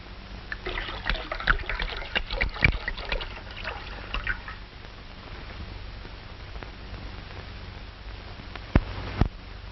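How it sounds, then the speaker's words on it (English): Grape juice poured into a bowl in a 1940s comedy scene, a faint liquid trickle and splash early on, then quieter with a couple of sharp knocks near the end. "I must find out where Magnolia bought this grape juice"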